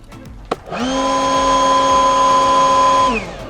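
A small STIHL leaf blower starts after a short click and runs at a steady, loud, high-pitched whir for a couple of seconds before winding down.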